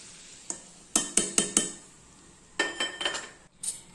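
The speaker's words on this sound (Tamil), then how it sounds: "இப்போ நம்ம எல்லாம் நல்லா கலந்து விட்டுக்கலாங்க." A spoon stirs and scrapes a sugar and roasted gram mixture in a metal pan for broken gram laddu, giving a few separate clinks, then a busier run of scraping near the end, close and moderately loud with no talk.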